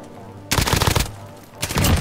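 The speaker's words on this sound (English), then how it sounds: "Shooting at each other up above." Warzone gunfire, two loud close bursts of rapid automatic shots separated by a brief lull, with a low rumble underneath.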